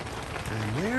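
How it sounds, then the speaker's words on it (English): Rain patters on a tent at a pioneer campsite in Lake Kissimmee State Park, a soft steady wash of drops heard briefly beneath a voice. "And there's the rain."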